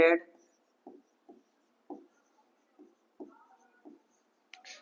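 Chalk scratches out short strokes on a classroom board, a string of brief, quiet taps and scrapes spaced unevenly, with a short burst of a voice at the start and end.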